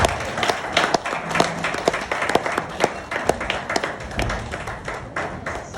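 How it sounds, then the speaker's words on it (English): Audience clapping at a ceremony held by Arash Motors in Ghana, a scattered round of hand claps of moderate loudness with sharp individual taps standing out from the crowd, continuing steadily without voices. "Give me another round of applause for the Deputy Director."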